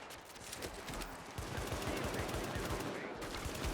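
Rapid bursts of enemy machine gun fire in The Division, a fast rattling stream of shots close by and fairly loud, with a voice speaking over the gunfire.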